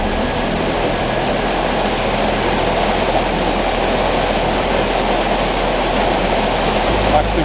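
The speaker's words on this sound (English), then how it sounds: "I'm also catching that upper fall as well in the frame" A waterfall with an upper fall in a landscape setting pours in a steady, dense, broadband roar that stays constant and fairly loud throughout, with no clear breaks.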